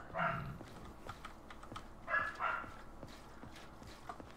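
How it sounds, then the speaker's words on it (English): A dog barks twice, faint and distant in the background, one short bark near the start and another a couple of seconds later, while soft keyboard typing clicks nearby. "for anybody that might hear like a dog in the background, I'm babysitting Andrew's dog"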